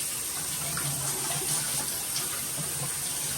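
A reef tank filter being rinsed under a running tap, a steady close rush of water splashing and gushing continuously without pause.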